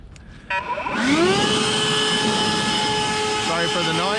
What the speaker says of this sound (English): Now I'm going to take my air blower.